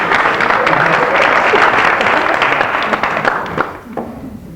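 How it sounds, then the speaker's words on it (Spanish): Audience applause fills a 1994 Galician comedy sketch at an award presentation, a dense loud wash of clapping that thins and fades toward the end, with no talk over it. "Estos aplausos"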